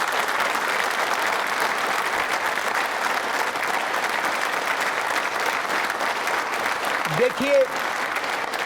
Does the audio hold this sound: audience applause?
yes